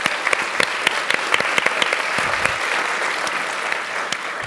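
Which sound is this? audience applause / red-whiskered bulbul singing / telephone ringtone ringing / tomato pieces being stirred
audience applause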